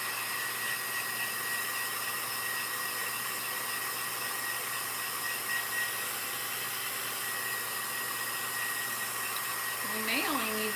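A hair dryer blows steadily while drying paint on a Christmas ornament, a constant close whooshing hiss that runs throughout with no break.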